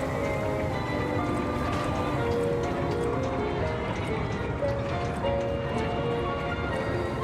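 Horse hooves clip-clop in a steady, continuous rhythm at moderate volume, with sustained tonal background sounds running underneath throughout.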